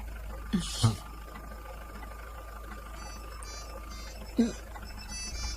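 A faint electronic ringtone chirps in short patterned bursts over a steady hum, with a couple of brief thumps earlier on.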